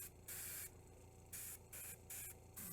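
An airbrush sprays Model Air Light Rust paint for rust weathering on a scale model, heard as about five short, close hissing bursts separated by brief pauses.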